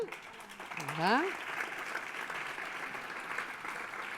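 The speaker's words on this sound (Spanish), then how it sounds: "Un aplaudiment per ella" Audience applause at an education congress on competencies in the age of artificial intelligence in Barcelona, steady dense clapping across the whole stretch with a brief rising whistle-like tone early on.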